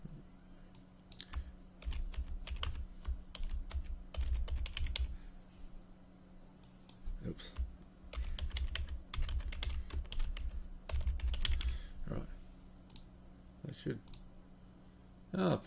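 Typing of a password on a computer keyboard, with rapid bursts of close, crisp key clicks interrupted by short pauses and a low steady hum underneath.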